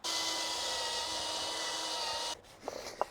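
A harsh, steady whirring grind of a wire wheel spinning on a drill, cleaning parts of a BMW E61 525d's M57 straight-six, running loud and continuous before cutting off, followed by a few faint scrapes.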